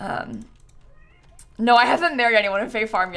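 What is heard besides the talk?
cat meowing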